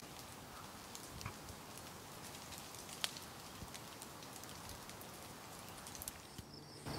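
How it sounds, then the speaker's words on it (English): Soft, scattered caterpillar droppings patter through tree leaves like light rain on a Vermont homestead, a faint continuous ticking with a few sharper taps. "that's the sound of caterpillar droppings coming through the trees"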